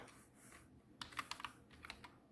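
Quiet room hush, then a short run of crisp keystrokes on a computer keyboard in a home music studio, with a few separate clicks following, close and soft.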